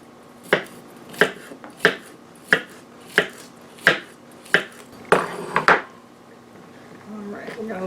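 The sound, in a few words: knife slicing cucumber thinly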